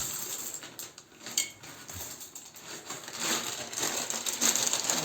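A metal spoon clinks and scrapes against a pot or dish while pasta is served, giving a few light, close clatters over low room noise.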